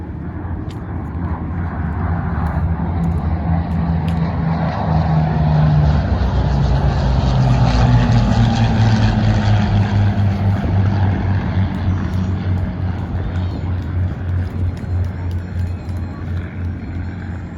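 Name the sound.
World War II airplanes flying at an airshow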